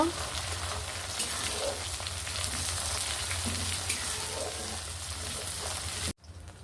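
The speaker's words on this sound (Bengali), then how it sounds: "এই যে পেঁয়াজটা আমার বাদামি কালার ভেজে নেওয়া হয়ে গেছে" Chopped onion and bay leaves fry in mustard oil over a clay stove, a continuous dense sizzle with a low rumble beneath, steady and close until it cuts off abruptly near the end.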